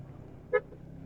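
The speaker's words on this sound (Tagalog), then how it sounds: "Busina tayo sa mga tropa para paggalang, pagrespeto." A single short car horn toot by the seaside, brief and moderately loud against a quiet background hum of the vehicle.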